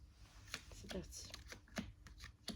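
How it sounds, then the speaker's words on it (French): Tarot cards shuffled by hand, a run of soft papery riffles and flicks at close range, with someone speaking over them. "Ces cartes-là, on va les mélanger entre elles pour savoir ce qui se passe entre vous."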